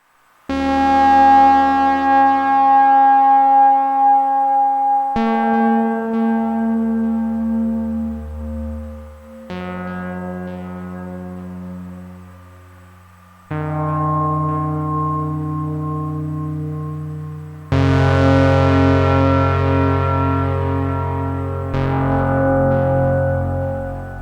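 A polyphonic Eurorack synthesizer plays sustained chords and notes, each trailing off in echoing repeats from an Audio Thingies Dr. A delay, loud and alone with no talking.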